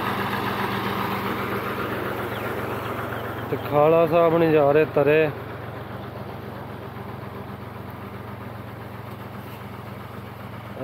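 A small Fiat 480 tractor idles steadily in a Punjab village, a continuous low engine hum running throughout, while someone speaks over it and a brief louder burst briefly interrupts midway.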